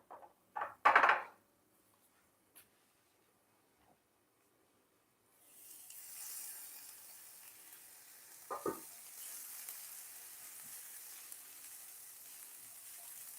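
Onions softening as they fry in a pan, heard as a steady, close sizzle that begins partway through after a few quiet clatters, with a sharper clank of the pan midway.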